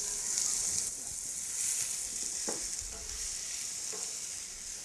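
Chopped onions sizzle steadily in hot oil with bay leaves, cardamom, cloves and a cinnamon stick, a close, continuous frying hiss with a few soft stirring scrapes and no talking.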